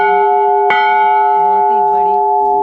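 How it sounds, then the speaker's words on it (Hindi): A very large temple bell at Naukuchiatal is struck once, with a sharp clang followed by a long, steady, resonant hum of overlapping tones that rings on. Faint voices sit beneath it. "बहुत ही बड़ी घंटी है जो कि चढ़ावे में चढ़ी हुई है।"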